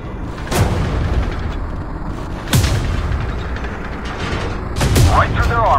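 Loud cannon blasts from an M48 Patton tank in the game Tank Company, three heavy booms spaced about two seconds apart, each with a rumbling tail over a constant battle drone.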